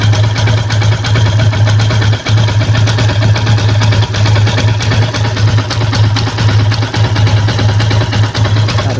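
A Yamaha Sniper 150 motorcycle fitted with an MTRT Stage 1 camshaft idles loud and close, holding a constant low, throbbing hum with a few tiny dips in its rhythm.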